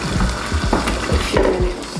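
Meat stock is poured into a cooking pot of ayamase stew, a short close splashing and gurgling pour with a few bubbling, sloshing pulses.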